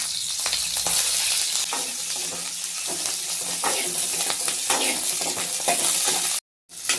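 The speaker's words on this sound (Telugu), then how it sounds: "పచ్చిమిర్చి వేయించుకుందాం. కొంచెం ఆయిల్ వేసుకుందాం." Green chillies fry in oil in a pan with a loud, steady sizzle and scraping stirring, broken by one brief dropout near the end.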